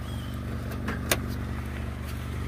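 A Honda Accord engine idles with a steady low rumble, close by, with a couple of faint clicks over it.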